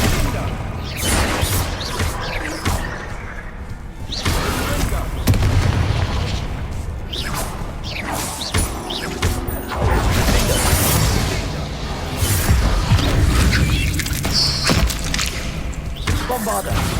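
Spell blasts such as Bombarda and Confringo in Hogwarts Legacy boom and crash repeatedly in a dense, loud barrage of explosions and thuds, with spoken voices calling out over the continuous combat din.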